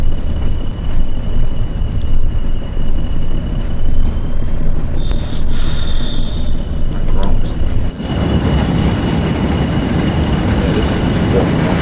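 A Class 20 diesel locomotive in Train Sim World on the Tees Valley Line rumbles steadily with a heavy low drone, a faint whine rising midway and the engine note growing louder and rougher toward the end.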